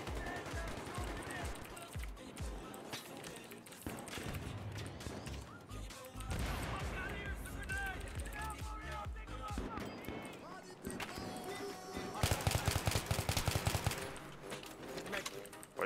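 Rapid bursts of automatic rifle fire and scattered gunshots from the video game Battlefield 3 crackle and clatter throughout, with crashes and mechanical clanks mixed in, while German-speaking players talk excitedly over the din.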